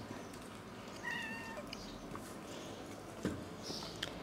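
A cat meows softly once or twice against faint room noise, with a few light taps and rustles, and no one talking during the clip.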